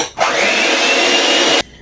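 An electric mixer whips a foamy mixture with vanilla and powdered sugar in one steady, loud whirring run of under two seconds, starting and stopping abruptly, with no talk.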